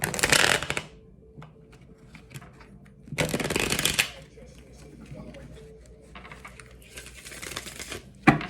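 Tarot cards being shuffled in quick riffling bursts, three main rounds of crisp, close flapping with softer handling between, under intermittent speech.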